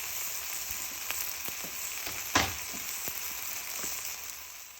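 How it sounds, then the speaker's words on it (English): Potatoes sauté in oil in a pot for an Indian chicken curry, giving a steady close sizzle with a few small pops and one brief louder crackle as they are stirred, with no speech. "I'm going to add the potatoes so that the potatoes can actually cook while there is oil in the pot."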